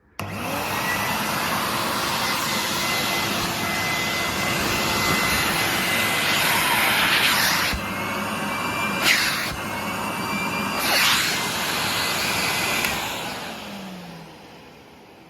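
A 1988 cream and brown Henry vacuum cleaner runs with a steady, loud whirring roar for about fifteen seconds, its pitch wavering slightly around the middle, with a few short bumps and knocks.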